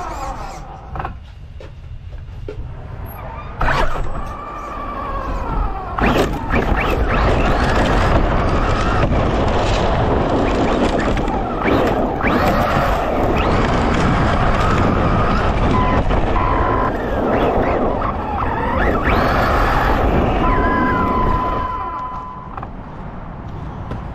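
RIVAL MT8 RC monster truck driving, a continuous loud electric motor whine and rattling chassis noise with creaks and shifting pitch as it speeds and turns, outdoors with wind buffeting the microphone.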